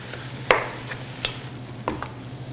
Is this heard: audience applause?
no